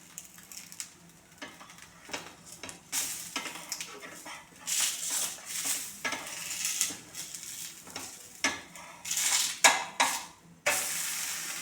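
Ada frying in a little oil in a pan gives a steady, close sizzle broken by sharp scraping and stirring clatters. No one speaks.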